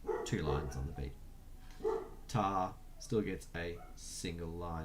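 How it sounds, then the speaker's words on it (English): Several dogs bark in the background, with repeated short bouts of barking and yipping that come and go under a person speaking steadily in the foreground. "My apologies about the dogs barking in the background."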